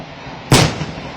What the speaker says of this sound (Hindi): मल्टी रॉकेट लॉन्चर सिस्टम किस प्रकार से दागा गया